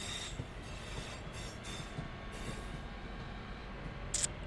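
A British passenger train on the Birmingham Cross City Line in Train Sim World 3 rolls along with a low steady rumble, faint wheel hiss and a brief high squeal near the end.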